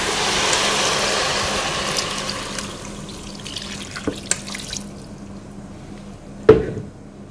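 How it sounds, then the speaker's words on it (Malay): Measured water pours steadily into a pot of rice and chicken for a spiced rice dish, a broad splashing rush at first that thins out, followed by a few knocks and one sharp clank near the end. "Kemudian kita masukkanlah air yang kita dah sukat sesuai dengan berasnya."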